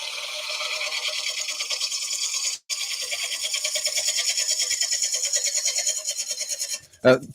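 A wood lathe spinning at about 600 rpm while a half-inch gouge takes a clean finishing cut on a handled bowl: a steady, close rasping hiss with a brief break partway through and a short sharp tonal sound near the end.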